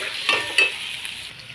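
Paneer frying with spices in a pan, a steady close sizzle with two brief scraping stirs near the start, no voices.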